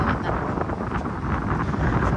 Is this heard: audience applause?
no